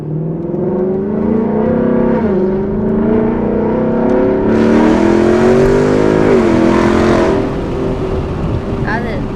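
A Ford Mustang V8 with an X-pipe exhaust revs loudly up and down nearby, a deep, rough exhaust note rising to a sharper roar before settling back.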